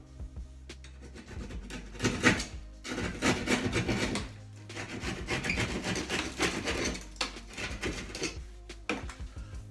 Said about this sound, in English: Right now I'm going to use a keyhole saw and square up my hole.